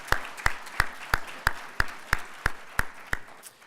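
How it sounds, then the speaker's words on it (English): Rhythmic, even clapping at a reverse vendor trade fair: about ten crisp claps in a steady beat, fairly close and moderately loud, with no talk over them. "Please give yourself a big round of applause for that."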